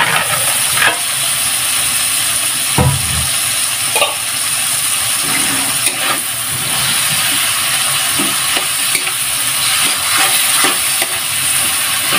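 Chicken liver and gizzard frying with garlic and onion in a pan for pancit bato give off a steady close sizzle, broken by scraping stirs and an occasional utensil knock, with no talking.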